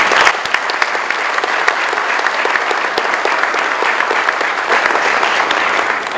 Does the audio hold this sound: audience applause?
yes